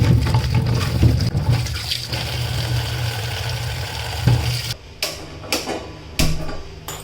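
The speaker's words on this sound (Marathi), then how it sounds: "स्वच्छ पाण्याने धुवून घ्यायची" Water sloshes and splashes as gooseberries are swished around in a bowl of clean water, followed by a few clunks and splashes as the washing finishes.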